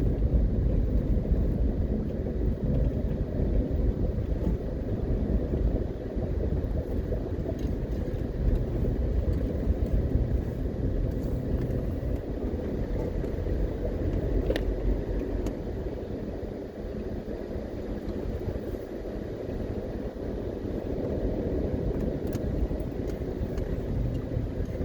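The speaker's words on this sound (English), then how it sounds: "we're driving out of Fern Gully now" A car driving out of Fern Gully toward Ocho Rios, Jamaica, its steady road rumble and tyre noise continuous throughout, with wind buffeting the microphone and no voices.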